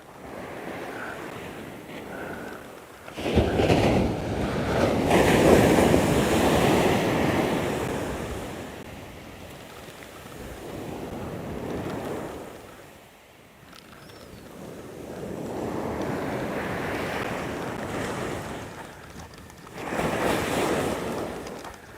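Ocean surf rolls onto a beach during surf fishing, with gusts of wind buffeting the microphone; loud, close swells rise and fall in long surges every several seconds, and no one speaks.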